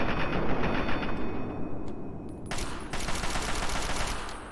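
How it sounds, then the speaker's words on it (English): Loud gunfire in the Fallout 3 video game, involving a .308 caliber sniper rifle: dense, rapid shots crackle almost continuously throughout, with no talking. "Who the fuck is shooting at me?"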